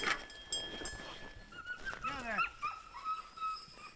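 Sled dogs in a dog lot at feeding time whine, yip and bark in a rising, excited chorus close by, with a person's voice briefly mixed in at the start.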